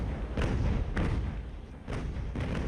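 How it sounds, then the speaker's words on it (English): Ship cannons fire in a sailing-era naval battle in Ultimate Admiral: Age of Sail, heavy booming thuds landing in an irregular sequence of about four shots. "The HMS Alert is basically there firing cannons at everybody and everything"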